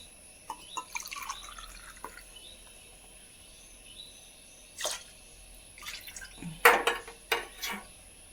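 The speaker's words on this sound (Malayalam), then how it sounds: "നമ്മളിതിലേക്ക് നാളികേരപ്പാലാട്ടോ ഒഴിക്കുന്നത്." Coconut milk poured into a pan while making banana leaf halwa. Faint, intermittent liquid drips and small splashes build to a few louder spatters near the end, with no talking.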